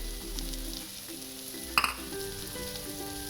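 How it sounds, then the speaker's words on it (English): Spam sizzling in a frying pan as it goes back in, a steady close frying hiss with a brief sharp crackle of hot fat partway through and some stirring, no talking. "Now we're going to add the spam back into the pan."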